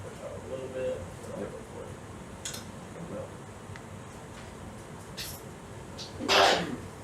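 One sharp sneeze breaks out near the end, loud and close, after a stretch of quiet room tone with faint speech.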